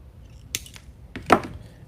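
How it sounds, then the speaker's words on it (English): Scissors trim a grapevine wreath stem with two quick, close snips in a quiet room. "I want my stem to be trimmed a little short"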